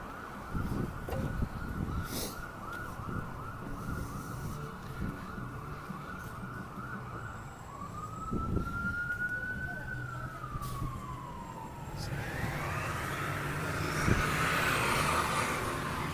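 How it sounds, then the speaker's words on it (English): An ambulance siren wails as it approaches in downtown Regina, rising and falling in pitch, growing louder over steady traffic and street noise. "I think it's an ambulance."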